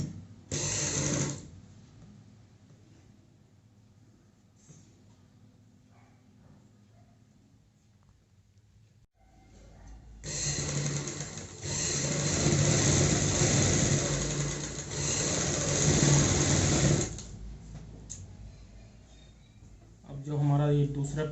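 A sewing machine running a topstitch along folded fabric for a young girl's frock, with a short burst of steady mechanical whirring, a longer louder run in the middle, and someone talking during the quieter stretches.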